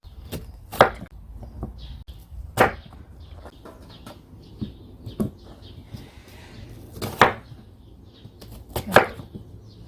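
A knife cuts down through onion on a board in sharp, irregular chops, close by, with quieter scraping between strokes.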